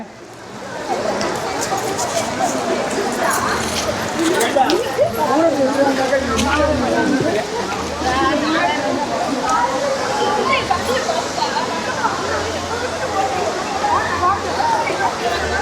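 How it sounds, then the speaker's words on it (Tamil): Courtallam main waterfall pouring down with crowds bathing beneath it: a constant heavy rush of falling water fills the scene, with a voice and crowd babble over it. "அருவியில் எப்படி தண்ணி வருதுன்னு செம்ம சூப்பராக வருது"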